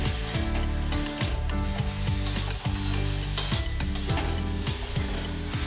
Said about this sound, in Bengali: আবারও ভালো করে নেড়ে চেড়ে মিশিয়ে নেব।